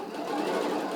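A sewing machine running close by feeds fabric through, a steady whirring hum with fast mechanical stitching, brief and moderately quiet.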